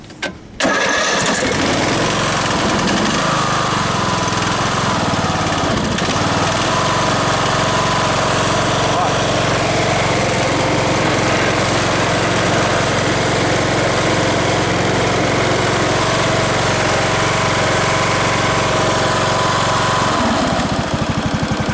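An old riding lawn mower engine sputters to life and then runs continuously at a loud, steady idle, vibrating close by for the whole stretch.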